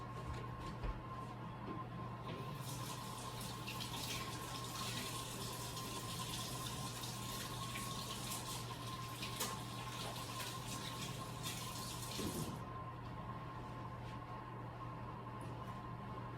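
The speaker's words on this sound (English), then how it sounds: "I gotta wash my hands again." Tap water runs steadily into a kitchen sink as hands are washed between seasoning meat, a continuous broadband rush with a low hum beneath, the flow brightening and thickening midway before easing back.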